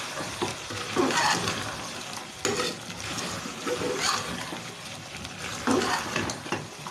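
Masala with chaat masala is stir-fried in oil for aloo gosht, with a spoon scraping the pan in repeated rhythmic strokes over a continuous background sizzle.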